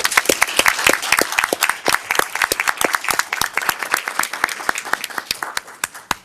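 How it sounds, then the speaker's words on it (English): Audience at a school board business meeting claps for youth poets, including a Hampton Roads Youth Poet Laureate Ambassador, as a steady round of applause with dense individual claps, fairly close and loud throughout. "Let's pause and give them a round of applause."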